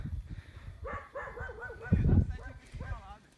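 A dog barks and yips several times in a rapid, uneven series from a moderate distance, with a voice talking over it.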